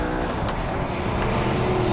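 An Audi R8 with a V8 engine roars steadily under acceleration, a loud, dense, continuous engine sound with a deep bellow and hard racing edge, heard close with no talk.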